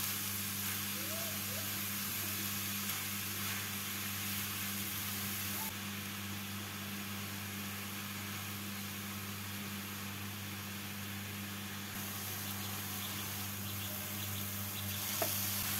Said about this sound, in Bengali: গাজরগুলোকে 2 মিনিট মতো ঘিয়ের মধ্যে ভেজে নিচ্ছি